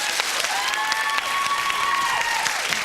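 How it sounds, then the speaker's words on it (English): Studio audience applauding steadily at a 1997 television panel show, a dense sustained patter of many hands, with a faint tonal whistle-like sound gliding above it. "Round of applause for those two."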